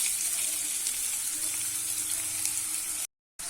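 Onions sizzling in hot oil with curry leaves in a pan, a loud, steady close-up frying hiss that runs continuously and then cuts out abruptly near the end.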